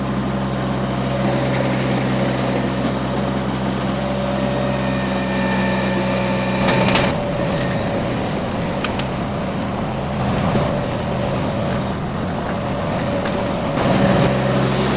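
A mini skid steer's engine runs steadily in a sharp turn, with a continuous close mechanical drone and a brief louder surge partway through.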